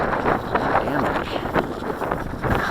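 Strong wind buffets a head-mounted camera during a blustery Carbon Cub STOL flight in Montana, a loud continuous rushing roar with gusty surges close to the microphone, with a voice faintly under it.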